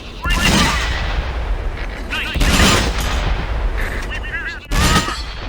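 Tank cannon fire in the World of Tanks video game, three loud booming blasts spaced a couple of seconds apart, each with a rumbling tail, alone without talk.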